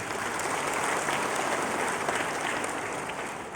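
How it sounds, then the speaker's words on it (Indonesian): A seated audience at the opening of a Persis congress claps for the West Java police chief, dense continuous applause filling the hall at an even level throughout. "tepuk tangan untuk Kapolda Jawa Barat."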